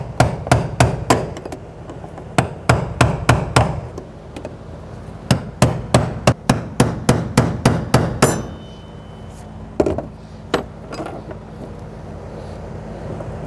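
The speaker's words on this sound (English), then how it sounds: "make sure you use a brass punch or the proper lock collar tool to loosen and remove that" A brass punch is hammered against the fuel pump lock collar of a 2011-2023 Dodge Charger 3.6L V6, giving rapid bursts of sharp, close metallic strikes, a pause, then a few scattered taps.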